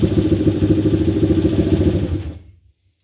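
An ATC 200X three-wheeler engine idles loudly inside a small building, a rapid, even low thumping pulse that echoes off the walls before cutting off abruptly and fading into silence.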